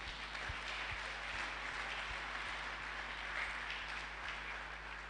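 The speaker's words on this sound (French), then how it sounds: "applaudissons le Seigneur." A church congregation claps together during a Sunday worship service, a dense, steady wash of applause filling the room from start to finish with no break, a low hum running underneath.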